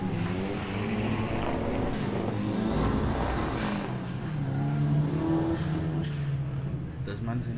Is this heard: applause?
no